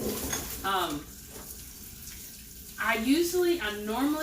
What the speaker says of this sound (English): so I can wash my spinach over here